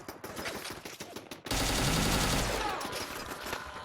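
Pipe gun firing in Fallout 4: after a stretch of quieter game background, a sudden loud burst of rapid automatic shots lasts about a second and then trails off into lingering noise.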